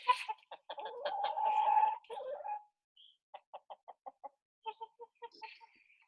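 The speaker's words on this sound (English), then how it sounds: "We're gonna watch those chickens one last time." Chickens cluck close by in short, irregular bursts of chattering calls separated by quiet gaps, with one longer drawn-out squawk early on.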